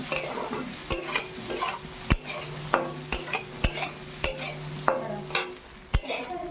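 Soya chunks with turmeric, salt and chili powder are stirred in a frying pan, a spoon scraping and clinking against the metal in a steady series of sharp strokes over a low sizzle.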